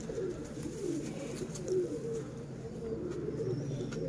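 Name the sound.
pigeons cooing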